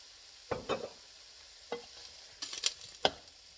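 Diced ham cooking in olive oil in a pan, a soft steady sizzle broken by several distinct scrapes and stirring clatters, close and fairly quiet with no voices.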